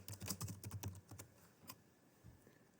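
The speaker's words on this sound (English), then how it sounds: "I'm going to type the names in two columns" Quick bursts of keystrokes on a computer keyboard while names are entered, a rapid close patter that thins out into a few scattered taps.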